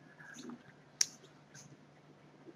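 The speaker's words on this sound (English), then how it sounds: "So click next." A single faint computer mouse click sounds once, sharp and brief, against a quiet, low background hum with soft indistinct noise around it.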